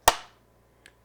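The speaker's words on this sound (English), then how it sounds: "you just heard the sound of that clap" A film slate clapper snaps shut once with a sharp, loud crack that decays quickly, followed by a much fainter tick just under a second later, with no talk.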